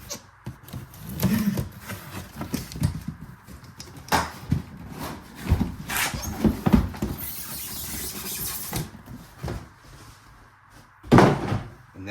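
A new RC car kit box is opened up close, with cardboard flaps scraping, packaging rustling and thumping, and a burst of crinkly plastic near the end.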